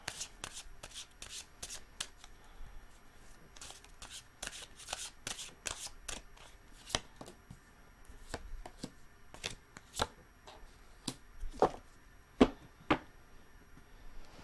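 Tarot cards being shuffled by hand in quick riffling bursts, crisp and close, with short pauses between rounds and no talking.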